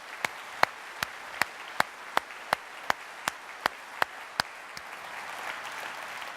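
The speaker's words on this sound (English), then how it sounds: "So a round of applause for those folks" Audience applause comes as sharp, evenly spaced claps ringing out one after another over a faint room hum, steady and moderately loud, with no voices.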